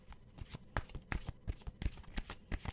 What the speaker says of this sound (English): But I am going to shuffle it.